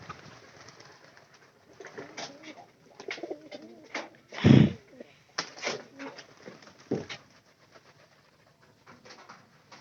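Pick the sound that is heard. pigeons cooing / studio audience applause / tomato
pigeons cooing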